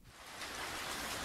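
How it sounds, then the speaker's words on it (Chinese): Heavy rain falls at one in the morning at the Keelung fish market, a steady broadband hiss that swells in from quiet and stays fairly faint and even throughout. "凌晨一点，基隆他妈定下起阵阵大雨"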